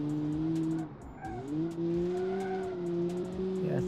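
A Suzuki Swift driven aggressively in the Automation car game, its engine holding a steady droning note that dips and rises with shifts, while tires squeal and skid in short bursts.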